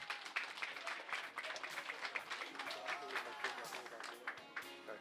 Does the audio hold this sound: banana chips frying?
no